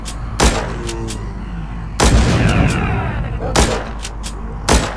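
Gunfire in The Walking Zombie 2, four loud separate shots spaced about a second and a half apart, each a sharp blast with a short decaying tail, over steady game background noise.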